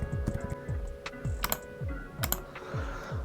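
Quiet, steady tapping of keys on a computer keyboard, with irregular clusters of keystrokes and a few sharper clacks, heard close and alone with no talk.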